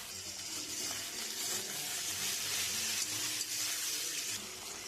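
Tomatoes hitting onions already browning in a hot pan, for a Bengali fish curry cooked in a village kitchen, giving a steady close hiss and sizzle that holds evenly throughout.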